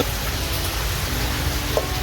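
Steady rain patters down continuously, a soft even hiss with no voices for about two seconds.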